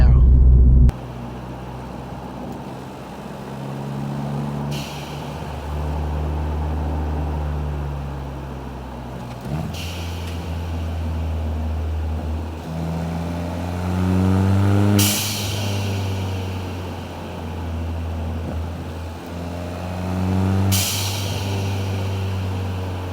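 Ford Fiesta ST turbo blow-off valve venting in sharp whooshing bursts, about three of them spaced several seconds apart, each breaking over a steady engine drone heard from inside the car while people talk.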